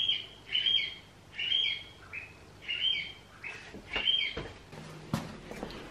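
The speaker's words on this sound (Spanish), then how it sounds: "Putos pájaros." Small birds chirp and squawk in a string of short, sharp calls about once a second, fairly close and loud, with a few quicker clicks near the end and no talking.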